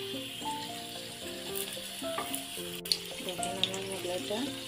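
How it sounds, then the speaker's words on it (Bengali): Mughlai made with flour and noodles frying over low heat in a pan, a soft continuous sizzle running beneath a person speaking throughout, with a few faint clicks of utensils. "আমি চুলা হিটটা লো হিটে রেখে আমি এটা ভেজে নিচ্ছি"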